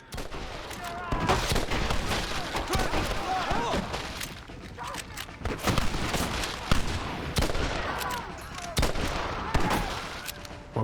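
Rifle fire in Red Dead Redemption, a busy run of sharp repeated shots and bursts over roughly eleven seconds, with someone talking over much of the shooting.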